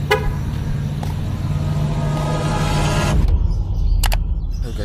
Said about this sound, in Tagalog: Maingay talaga yung sakyan eh.